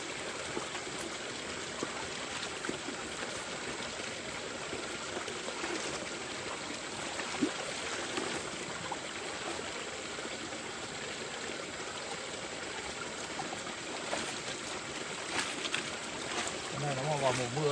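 Stream water rushes and gurgles in a steady, broad wash near a rice field in the countryside, continuous and close throughout.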